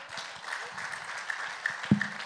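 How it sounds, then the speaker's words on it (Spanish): A church congregation gives a brief round of applause, a soft, fairly distant patter of many hands clapping in a reverberant room. "Dale un aplauso al rey."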